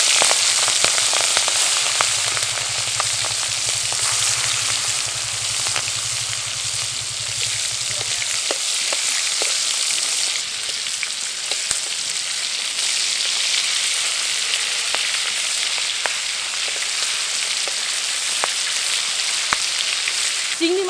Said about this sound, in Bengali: এখন চিংড়ি মাছগুলো ভেজে নেব।